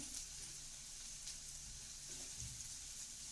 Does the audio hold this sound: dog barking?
no